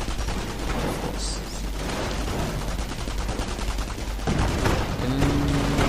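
Continuous gunfire rattles through a Company of Heroes battle, with dense overlapping shots and bursts over a rumbling background, loud and unbroken, while a voice speaks briefly over it.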